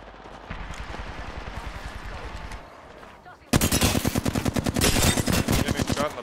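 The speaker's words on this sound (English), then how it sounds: "Getting shot in the back." Rapid bursts of automatic gunfire in an online battle royale shooter, a steady stream of shots that gives way to louder, denser close-range fire after a brief gap.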